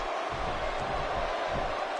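Dense roar of a video-game wrestling arena crowd in WWE 2K16, a continuous broad wash of cheering voices at steady level without pauses.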